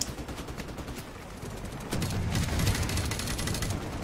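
Sustained bursts of rapid gunfire from the Call of Duty Modern Warfare Remastered campaign, a dense rattling fusillade that grows louder and heavier midway through and continues without pause.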